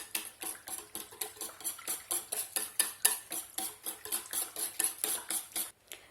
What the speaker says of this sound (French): on n'hésite pas à bien mélanger une fois que tout est